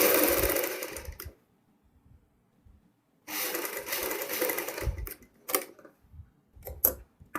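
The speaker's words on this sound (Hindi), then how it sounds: "ये सिलाई भी हमने बड़े ही ढीले हाथ से लगानी है, आराम से हल्के हाथ से।" Sewing machine stitching a V-neck on fabric, run in two bursts of steady whirring separated by silence, followed by a few short clicks and taps.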